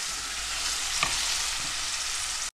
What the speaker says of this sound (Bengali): পেঁয়াজ আর টমেটো, একটু গার্লিক, একটু 2 table spoon garlic, 1 table spoon ginger, আদা রসুন দিয়ে মশলাটাকে এভাবে কষিয়ে নিচ্ছি